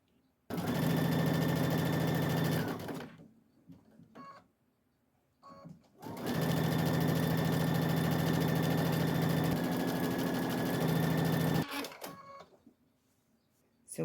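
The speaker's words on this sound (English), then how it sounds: "You just want to sew down the one side of this." A sewing machine stitches fabric strips together along a quarter-inch seam, running in two long steady bursts of several seconds each, with brief pauses and small handling noises between them.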